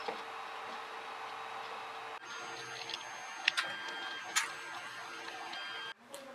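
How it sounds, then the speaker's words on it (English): A newly unboxed 3D printer runs its first print: a steady mechanical whir with thin tonal motor whines, a few sharp clicks and ticks, and a brief drop near the end. It is moderately faint and continuous, with no talk. "now before we continue printing, let's understand what a 3D printer is"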